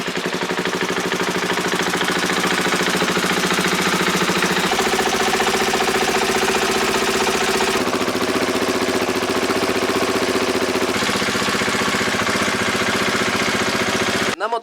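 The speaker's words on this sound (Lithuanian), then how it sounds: "Motociklas dabar sėkmingai burbuliuoja" A KTM EXC-F supermoto's single-cylinder engine idles steadily outdoors during break-in, a continuous burbling drone that shifts slightly in pitch a few times, close and loud, with no talking.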